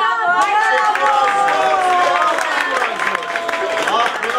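Applause at a kindergarten Christmas party, clapping from a small group of children and adults under a man's speech and chatter, steady throughout.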